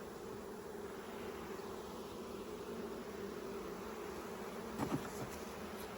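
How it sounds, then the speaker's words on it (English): A dense, continuous drone of many honey bees buzzing around a hive on a hot day, steady and moderately loud, with a few faint clicks partway through and no talk. "That is a lot of bees, but they're just hot, so they'll come in tonight when they get cooler."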